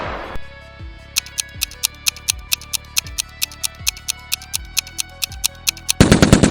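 PARAFAL rifle fire in PUBG: a steady string of about eighteen evenly spaced, sharp shots, loud and close, each followed by a short metallic ring, ending in a brief burst of denser noise.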